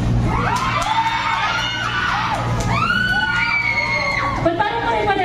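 A group of people shouting and yelling together, loud overlapping voices rising and falling across the whole stretch, close and crowded.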